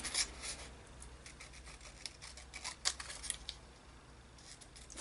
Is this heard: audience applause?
no